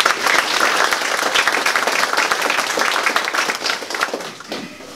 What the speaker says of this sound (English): So I think we really need to give Mr. Brock a round of applause